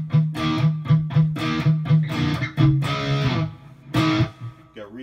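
Electric guitar played at low gain through a Fractal AX8 unit, with a rhythmic run of short chordal strums and stabs, clear and fairly loud, with no talking.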